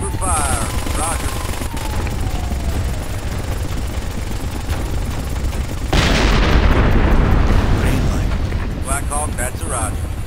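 Gunfire and explosions in the tactical shooter game Ghost Recon Advanced Warfighter form a dense, loud barrage. A heavy blast surges in partway through, and radio-style voices talk over it.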